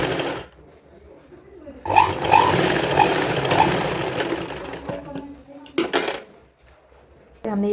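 A sewing machine stitches a kurti, starting from near silence into a rapid, continuous mechanical whir with clacking, then stopping and restarting in short bursts close by, with no speech over it.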